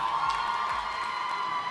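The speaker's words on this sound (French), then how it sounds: "Applaudissements pour Dina!" Arena crowd at an esports Just Dance contest cheers and whoops for dancer Dina, a dense, steady roar of many voices holding at one level throughout the short burst.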